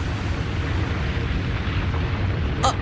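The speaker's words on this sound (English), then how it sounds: "A bomb?" A bomb goes off in the video game Trails of Cold Steel as a loud, sustained rumbling roar that fills the whole moment, with a short sharp burst near the end.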